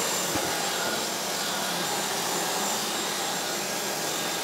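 Flex power tool running with a vacuum extractor attached, giving a steady, even whine and airy roar that holds constant from start to finish, with a brief knock near the beginning.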